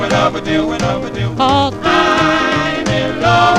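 A 1956 doo-wop record plays loudly, with a vocal line over a rhythmic backing band and no talk over it.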